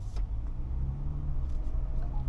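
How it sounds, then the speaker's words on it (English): A 2025 GWM Tank 500 with a 2.0-litre turbocharged hybrid engine runs with a steady, slightly diesel-like low rumble, heard from inside the vehicle, even and moderately quiet throughout with no talking. "It sounds like a diesel a bit, but it's not necessarily a diesel because this one is a 2-liter turbocharged hybrid system"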